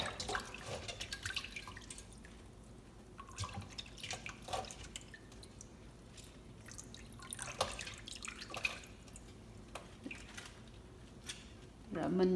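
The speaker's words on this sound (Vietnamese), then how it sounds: "Mình rửa xong rồi mình để đây cho nó ráo nước." Washed mustard greens set aside to drain after a salt-water rinse, water dripping off them in faint, scattered drops, quiet and close, with no talking.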